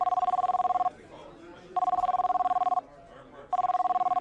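A cell phone rings inside a restaurant, three bursts of a bright electronic trill separated by short pauses, loud and close, with faint room murmur underneath.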